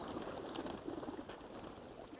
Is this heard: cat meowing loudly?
no